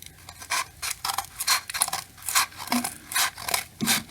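Scissors cutting thin strips of craft material for Barbie doll crafts, a regular run of about ten crisp snips close up, with no talking.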